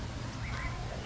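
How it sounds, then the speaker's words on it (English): Birds in the San Diego Zoo aviary giving a few brief chirps and tweets, moderately distant over steady background noise. "birds back here in the aviary."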